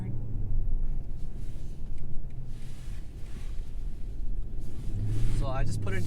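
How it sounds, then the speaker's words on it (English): V8 engine and exhaust of a 2020 BMW M850i coupe while driving, a steady low rumble beneath continuous speech, with a rising rev near the end. "You hear a little bit more of that V8."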